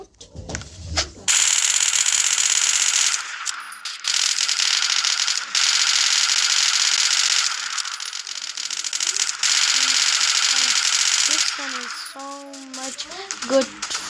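A P90 submachine gun in the Roblox video game fires in long, sustained bursts of harsh, hissy automatic fire, broken by short pauses. A few soft tonal game effects follow near the end.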